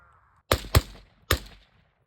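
Three gunshots crack out during a shooting drill, two in a fast pair followed by a single shot after a brief pause, loud and close against a quiet outdoor background.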